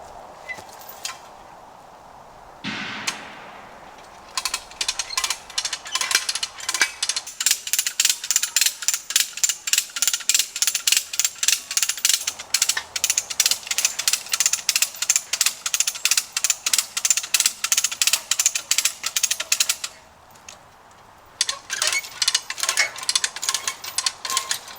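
A ratchet tensioner cranks high tensile fence wire in the woods, loud rapid clicking in quick repeated bursts with a short pause near the middle, near and without talk.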